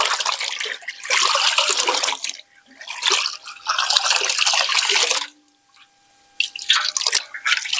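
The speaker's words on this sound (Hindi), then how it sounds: "बस खंगाले गए।" Items are rinsed under running water in bursts, loud splashing and gushing that stops and restarts three times with short quiet gaps.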